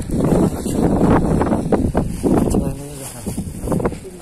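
Strong wind gusting across an open shoreline during fishing at high tide, roaring into the microphone with buffeting bursts, while someone speaks briefly over it.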